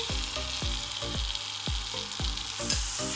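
Grated carrot sandesh mixture with cardamom being stirred in a pan, a quiet constant sizzle broken by about nine regular scraping spatula strokes.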